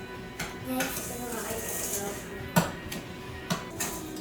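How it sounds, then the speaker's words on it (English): Butter and sugar are stirred in a bowl for allergy-free donut muffins, a steady scraping with sharp clinks of utensil against the bowl, while voices talk over it. "Oh, mixing butter and sugar, you guys."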